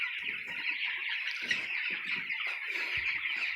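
A large flock of 19-day-old broiler chickens on a poultry farm keeps up a dense, continuous chorus of peeping and clucking, moderately loud and close, with no talk.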